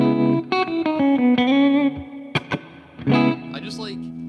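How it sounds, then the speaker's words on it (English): An instrument played through a new effects rig with a large hall reverb sounds sustained notes and short chords, each tail ringing out and blooming into a wide, washy decay, with no talking. "I like how the large hall reverb kind of opens you up a little bit, especially in my studio."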